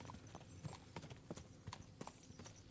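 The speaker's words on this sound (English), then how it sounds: "They wouldn't just make you ride your horse all the way to the other side of the map." Horse hooves clip-clop at a steady walking rhythm while a rider travels across the land in Kingdom Come Deliverance 2. The hoofbeats are faint and even, with quiet ambient game sound underneath.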